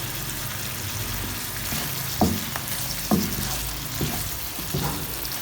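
Green chillies sizzling in a carrot and potato curry in the pan, a steady frying hiss broken by a few sharp stirring clatters at irregular intervals.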